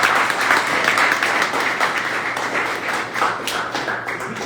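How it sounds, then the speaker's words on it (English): Audience applause at a Texas Blockchain Council presentation, steady dense clapping from a crowd lasting several seconds with a few louder claps near the end. "let's give a round of applause to"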